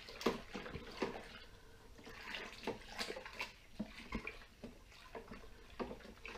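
Home brew liquid stirred in a bucket, a steady sloshing and swirling of water with rhythmic surges close up, no talking.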